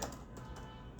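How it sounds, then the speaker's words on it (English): Fingers type on a computer keyboard while filling in a Google Form, with a quick run of soft, close key clicks and no talking. "So I am typing like this."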